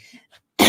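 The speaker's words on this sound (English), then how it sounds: "I get a cough now, hang on." A single sharp cough comes close to the microphone after a brief near-silent pause.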